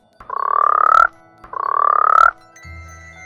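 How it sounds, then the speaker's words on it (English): Deputy Lilypad, a frog character in the Garten of Banban video game, gives two long, loud, deep rattling croaks in succession, clear and close, with a low hum starting after them. "they can hear her deep loud croaking as she walks around the room"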